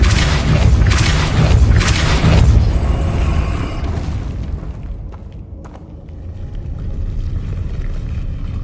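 Loud magical blasts from the Depulso spell in Hogwarts Legacy, a few heavy booming bursts in quick succession that fade into a rumbling tail, then a couple of sharp cracks and a low lingering roar.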